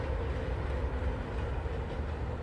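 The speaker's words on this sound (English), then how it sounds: "There's the monorail again." A teal monorail at Walt Disney World's Magic Kingdom passes with a steady, broad rolling rumble, continuous and moderately near, with no voices.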